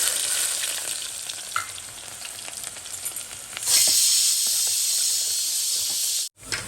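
Cumin and garlic frying in a pan, a loud continuous sizzle that rises sharply partway through as the garlic goes in, with light stirring clicks under the hiss.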